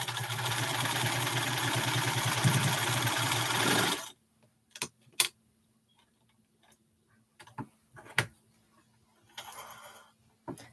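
Sewing machine stitching quilt blocks, running in a steady rapid mechanical whir for about four seconds, then stopping, followed by scattered clicks and brief handling noises.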